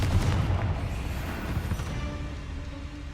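A fire-based explosion spell from the Hogwarts Legacy video game: a heavy, rumbling blast whose booming tail fades gradually over a few seconds.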